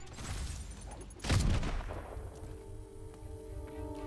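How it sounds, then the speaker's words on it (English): A flashbang grenade in a shooter video game goes off with a sharp, close burst, followed by a fading ringing tone that lingers under low background noise. "They do the flashbang really well, I think, in this game"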